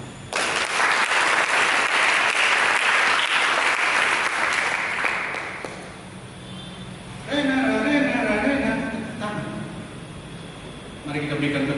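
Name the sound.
applause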